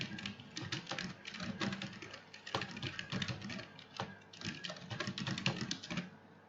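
Rapid, dense clicking of keys on a computer keyboard as text is entered into a PowerPoint table, a steady flurry of close keystrokes with brief pauses and no voices.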